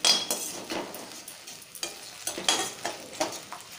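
A pan of cabbage Manchurian sizzles as vinegar is stirred in, with repeated rhythmic scraping strokes of a spoon over steady frying hiss, close and clear, with no voices.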